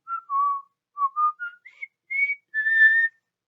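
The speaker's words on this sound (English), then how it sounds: "Well, I whistled it for you." A person whistles a short, clear melody of distinct notes rising in pitch, the Colonel Bogey March by K.J. Alford, solo and close, with brief pauses between phrases.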